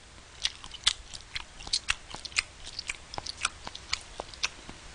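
Close, crisp chewing of spicy-sweet stir-fried sundae (Korean blood sausage) with ramen noodles, with repeated wet crunches and smacks in an uneven rhythm and no talk.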